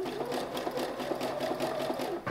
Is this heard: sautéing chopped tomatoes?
no